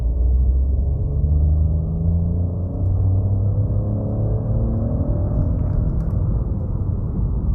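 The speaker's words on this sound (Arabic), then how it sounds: "ده صوت العربيه صوت الموتور ولا ده صوت جاي من السماعات." Engine of a 2023 Opel Mokka GS-Line accelerating in sport mode, a steady low drone with rising harmonic tones as revs climb, heard from inside the cabin with no talk.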